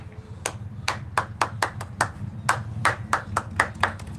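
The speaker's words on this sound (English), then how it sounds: "Let's clap it up." A group claps in a loose, uneven burst of about a dozen sharp claps over a steady low rumble, with no talking.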